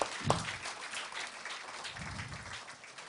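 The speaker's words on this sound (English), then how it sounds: "A huge round of applause, guys, for that." Audience applause at a panel discussion during a media launch event, a sustained, fairly quiet wash of clapping from a seated crowd with a brief louder burst near the start.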